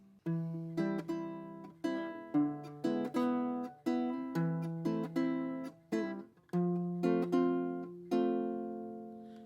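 A baritone ukulele is fingerpicked in a repeating pattern, a low bass note followed by higher plucked strings, ending on a sustained ringing chord.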